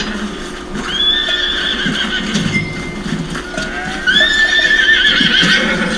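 A horse in Red Dead Redemption 2 gives two loud, drawn-out whinnies close by, with hoof clopping and ambient game noise underneath.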